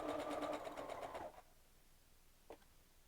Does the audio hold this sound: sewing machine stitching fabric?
yes